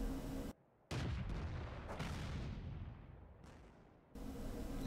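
A Su-5 self-propelled gun in the World of Tanks video game fires a shell with a loud, heavy boom. A sharp blast is followed by a long, fading rumble, with a brief quiet gap near the start.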